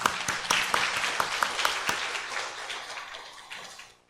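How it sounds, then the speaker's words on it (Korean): A church congregation applauds during a Sunday worship service, a dense burst of many hands clapping at once that stays steady and then gradually thins and fades toward the end. "우리 하나님께 영광의 박수 올려드립니다."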